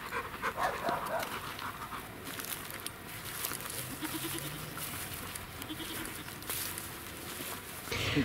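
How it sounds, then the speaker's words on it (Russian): A dog pants in quick rhythmic breaths close by while goats graze and bleat nearby on a family walk outdoors, with a faint background hum. "Собака."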